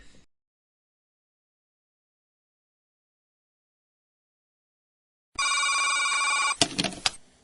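A telephone rings in a loud, bright burst near the end after a long stretch of silence, the ringing tone steady and harmonic before an answering machine picks up.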